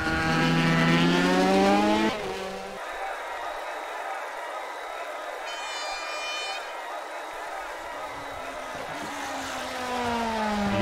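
A BMW DTM race car engine at Spa-Francorchamps screams past at high revs, loud at the start and end with a quieter steady drone between as the car passes, while a commentator talks over it.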